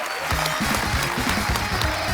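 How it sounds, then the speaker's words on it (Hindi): Loud, dense studio audience applause for the Wadali Brothers on a comedy show, continuous throughout, with voices faintly audible beneath the clapping. "एक बार जोरदार तालियां हो जाए वडाली ब्रदर्स के लिए"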